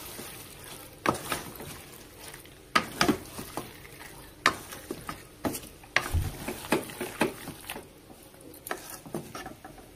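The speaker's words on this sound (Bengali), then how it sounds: "এবার চিকেনটা দিয়ে মশলার সাথে ভালো করে কষিয়ে নিব।" Chicken sautés with spices in a pan, home style, with soft sizzling broken by sharp scrapes and clinks of a stirring spoon at an uneven rhythm.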